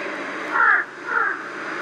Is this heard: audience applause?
no